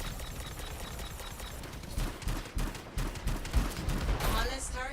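Rapid video-game gunfire rattles in dense bursts while turrets are shot at, loud and continuous over background game noise and music, with a voice speaking over it.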